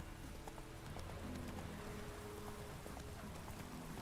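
Hooves of the horse Roach in The Witcher 3, a steady clip-clop of footfalls over a soft background wash resembling rain, moderately near and continuous throughout.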